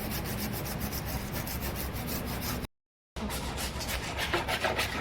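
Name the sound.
scrubbing chimney with wire mesh and kerosene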